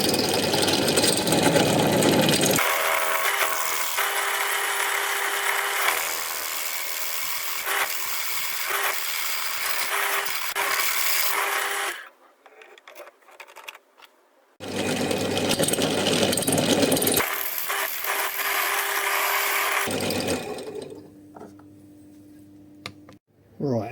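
During a pressure washer repair, a drill with a larger bit grinds through a spur gear and shaft in two long, loud whirring runs separated by a short quiet pause, the second run winding down into a lower hum.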